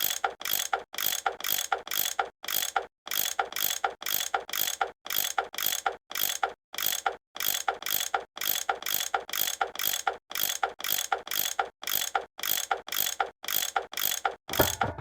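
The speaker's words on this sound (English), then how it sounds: "I bet that's what you use to unscrew these bolts." A tool unscrewing bolts in the Nancy Drew: Last Train to Blue Moon Canyon video game: a long, steady run of rapid ratcheting clicks in evenly spaced bursts with short gaps, close and clear with no talking.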